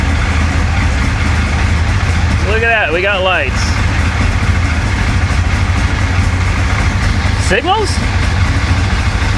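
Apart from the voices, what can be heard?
1966 Chevy Impala 427 engine idling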